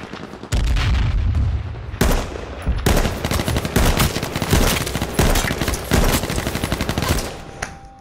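Rapid automatic gunfire in the battle royale game H1Z1, loud bursts of SOCOM rifle shots in quick succession, with a pause near the start and dense crackling volleys through most of the stretch; no one speaks.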